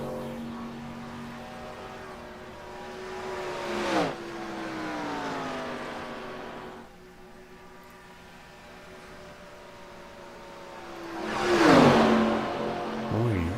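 Race cars at the Don Irish Memorial race roar past one after another, engines rising and falling in pitch as each passes close, the loudest swelling near the end.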